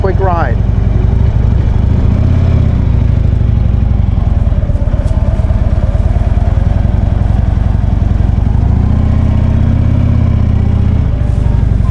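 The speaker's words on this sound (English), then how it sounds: "we're about to pull this bike out of the showroom and we'll take just a quick ride around the dealership" A 2013 Harley-Davidson Ultra Glide motorcycle starts up at a dealership and settles into a loud, steady V-twin rumble that continues as the bike rides off, with a brief rise in engine note near the end.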